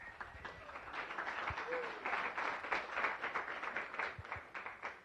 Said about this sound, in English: Yes, let's give her a round of applause.